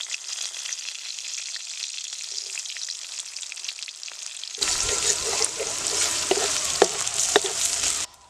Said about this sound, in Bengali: এবার দিয়ে দিব কাঠ কুচানো পেঁয়াজ